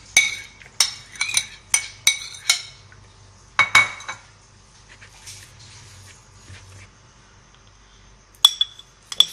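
A spoon scrapes and clinks against a bowl while chana dal and potatoes are mixed together: a run of sharp, close metallic clinks, then quieter stirring and scraping, with a few final clinks at the end.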